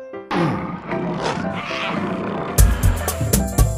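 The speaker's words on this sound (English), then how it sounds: "Wow, lions." A lion roars in a children's phonics song, a rough, rasping growl that rises and swells for a few seconds, followed by brighter, punchy musical hits.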